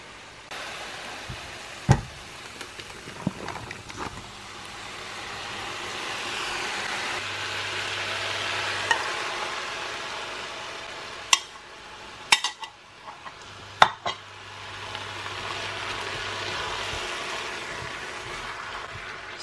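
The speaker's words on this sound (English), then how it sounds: "Just give it a good stir through" A sauce being stirred through food in a pan at home, with soft scraping and occasional sharp clinks of a utensil against the pan over a steady background hiss, no talking.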